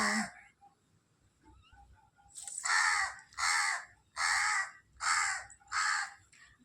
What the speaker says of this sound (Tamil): எங்கே கிடந்து இந்த காக்கா இப்போ வந்துச்சுன்னு எனக்கு தெரியல சுற்றிட்டே இருக்கா